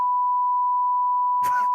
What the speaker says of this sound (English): You're just gonna bleep it out